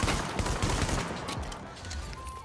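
Shotgun shots from The Division video game, fired in quick repeated bursts with a tactical-link buff active; the dense, loud blasts fill the whole moment with no pause and no talk.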